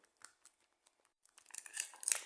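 Faint scattered crinkles give way to a louder burst of plastic tearing and crackling near the end, close by.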